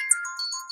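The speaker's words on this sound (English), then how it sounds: "And that's your phone or my phone? Oh, that's your phone." A mobile phone rings with a short, bright electronic ringtone melody of quick tonal notes, clear and close, with no one speaking over it.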